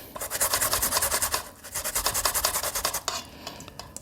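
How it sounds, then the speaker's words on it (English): Sweet potatoes for a Jamaican sweet potato pudding are rubbed quickly against a hand grater in steady, rhythmic rasping strokes, close and loud, with a short pause midway and no voices. "finish grate our sweet potatoes"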